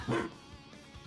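Robot dog in the video game Trails Through Daybreak gives a single short bark-like burst near the start, then a quiet game background follows with a brief sharp sound at the very end.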